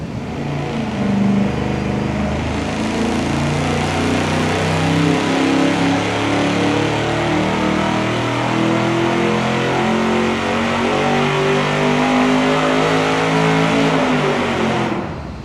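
An engine runs on a dyno with dual exhaust and turbo mufflers, a sustained loud, close, muffled roar that holds steady for about fifteen seconds and cuts off abruptly at the end.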